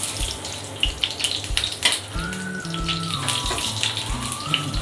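Vegetable pakora fritters, Bangladeshi style, bubble and crackle in hot oil with a steady close sizzle, soft spatters and a faint tonal hum over the top, no voices.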